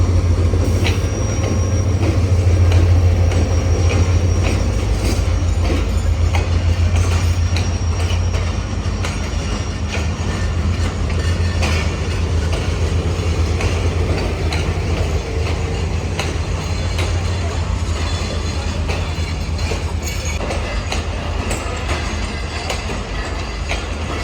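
The 48 Down Rehman Baba Express, running between Peshawar and Karachi, rolls past alongside on the next track, a loud continuous rumble with rhythmic wheel clatter and faint squeals that eases slightly over time.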